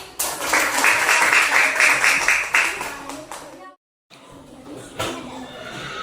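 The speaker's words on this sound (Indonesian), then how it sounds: "Oke, tepuk tangan." A classroom of primary school children claps together in a burst of rhythmic applause, loud and close, then it cuts off briefly before scattered clapping and chatter resume.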